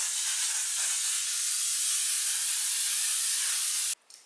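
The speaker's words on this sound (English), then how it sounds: "I'm just going to spray that" Makeup setting spray for a matte base hisses in one continuous, close burst lasting about four seconds before stopping abruptly.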